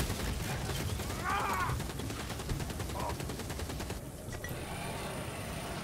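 A Ratling gun from the video game Vermintide 2 fires rapidly and continuously, a dense, unbroken mechanical rattle of automatic shots close by that lasts the whole stretch.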